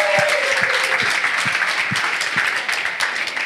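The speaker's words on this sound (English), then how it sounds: "Everybody give Rose a round of applause." An audience at a Miami 2023 presentation event gives a steady round of applause welcoming Rose, dense clapping sustained throughout with a faint tonal whine early on.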